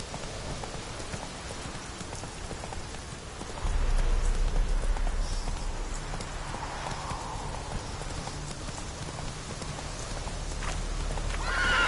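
Roach the horse gallops in a video game, a steady thud of hooves under constant rain-like hiss, growing a bit louder and fuller partway through, with a faint snort or whinny.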